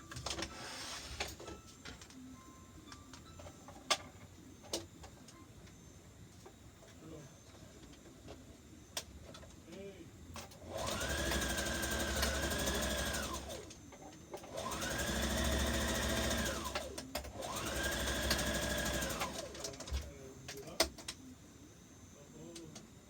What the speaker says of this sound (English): we're gonna just sew 1/2 inch across there, 1/2 inch across, just dead sewing.